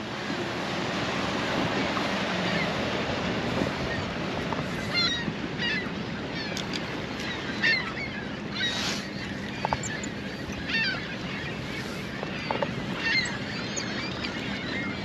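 A Crestliner Authority fishing boat approaches across open water on a spring morning. Its engine hum runs steady under lapping water, with a few faint bird calls in the distance.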